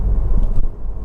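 A Honda CR-V 2.2 i-DTEC diesel Black Edition 4x4 idles just after starting, giving a steady, smooth low rumble that stays even throughout with no talking.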